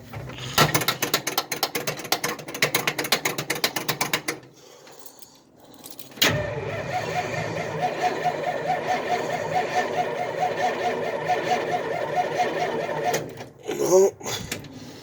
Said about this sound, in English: You hear the pump rattling.